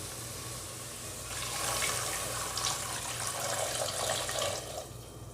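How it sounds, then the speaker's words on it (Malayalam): Water poured into a pot of chickpeas in masala for a kabuli chana curry, a steady rushing pour that swells in the middle and eases off, close by with no talking. "ഇനി നമുക്ക് ഈ കടലേൻ്റെ ഒപ്പം വെള്ളം പാർന്ന് കൊടുക്കാം."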